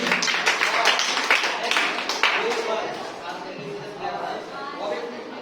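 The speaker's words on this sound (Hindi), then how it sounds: "तालियां हो जाए।" Students in a classroom break into a few seconds of brisk clapping that blends with voices and chatter, then fades as talking carries on.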